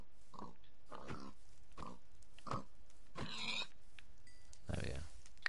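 A pig in the game Minecraft grunts in a few short, faint bursts spaced across the moment, with some quiet game noise between them.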